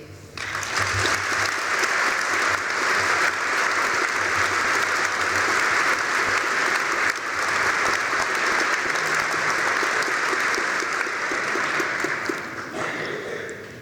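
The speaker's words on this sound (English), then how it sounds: "Please join me in applauding the graduates' achievements today" Sustained, loud applause from a large audience honouring graduates at a university graduation ceremony, steady dense clapping that fills the whole stretch without a break before tapering slightly at the end.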